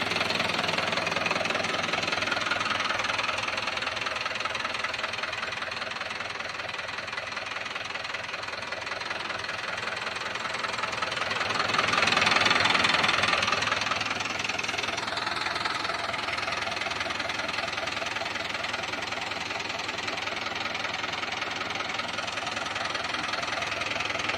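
A Swaraj 841 XM tractor with a Mahindra 475 engine idles with a steady, knocking diesel rumble, close by, swelling briefly midway before settling back to an even chug.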